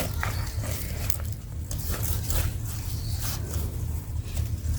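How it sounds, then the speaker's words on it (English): Scissors snip through thick, mildewed zinnia stems while an autumn container garden is cleared. There are several close crunchy cuts and rustles of foliage in irregular bursts, with no talk. "I don't think my scissors is fit for this job."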